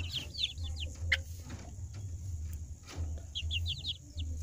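One-week-old kampung chicks and young joper chickens peep and chirp in quick bursts over a steady low hum, fairly faint and with no talking.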